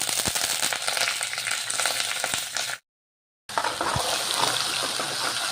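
Ginger garlic paste and curry leaves fry in a pan with a continuous bright sizzle and occasional spatters, broken by a short silent gap before the frying resumes; no speech.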